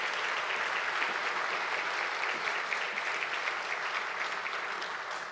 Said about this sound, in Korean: 큰 박수로 축하해 주시기를 바랍니다